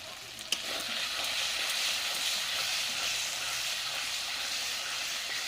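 Mutton sizzles and fries in a pan with turmeric powder and a paste of dried chili, cumin and coriander, a steady hissing crackle with a brief clatter near the start.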